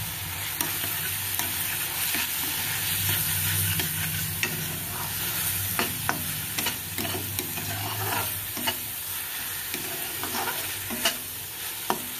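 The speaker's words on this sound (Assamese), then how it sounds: "মই কেঁচা গোন্ধ নোযোৱালৈকে ভাজিম" Chickpea curry sizzles steadily in a hot pan with turmeric added, while a utensil scrapes and clinks against it in irregular stirring strokes, close up, with no talking.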